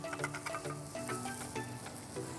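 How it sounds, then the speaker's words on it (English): Salisbury steak patties sear in a hot pan on high heat, giving a steady close sizzle and crackle with soft rhythmic scraping. "got it on high heat. I don't have a Camp Chef like you guys. But we got a little sizzle there"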